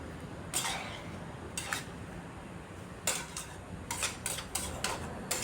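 Ladle scraping and clinking against a pot while rohu fish head curry with squash and potato is stirred, a few irregular metallic taps in bursts over quiet background.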